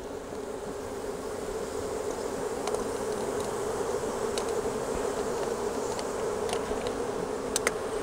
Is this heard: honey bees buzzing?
yes